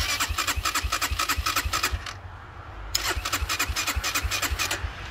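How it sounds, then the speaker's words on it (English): A 2022 Yamaha TTR-125 dirt bike's starter cranks in rapid rhythmic bursts, pauses briefly, then cranks again close by without the engine catching. "Get this thing to fire up."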